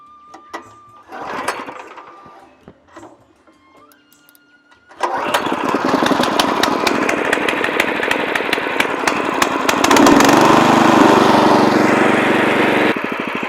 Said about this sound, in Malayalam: ഇനി സ്റ്റാർട്ട് ചെയ്യാനുള്ളത് ഇതിൻ്റെ കിക്കറാണ് വരുന്നത്.